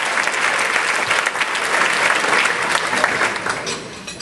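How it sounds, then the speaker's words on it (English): Dense, enthusiastic clapping from a crowd at a luncheon event, steady and loud throughout with a slight easing near the end. "Give some applause"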